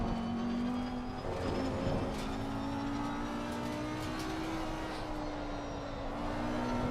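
Steady engine drone of a GT race car lapping in Assetto Corsa Competizione, loud and continuous with slowly shifting pitch through gear and speed changes, heard from the cockpit.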